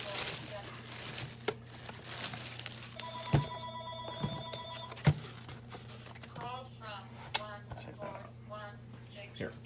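A telephone rings with a short electronic ring pattern lasting about two seconds, set among crinkling and handling noises in a quiet room, with a person talking afterward.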